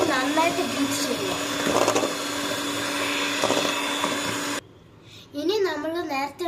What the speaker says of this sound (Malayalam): എന്നിട്ട് അത് ഇനി നന്നായിട്ട് ബീറ്റ് ചെയ്യുക.